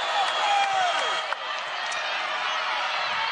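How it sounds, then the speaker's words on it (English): A large basketball arena crowd at a Minnesota versus Ohio State Big Ten game groans and murmurs in disapproval, a steady broad roar of many voices that stays fairly even throughout. "The crowd does not like it."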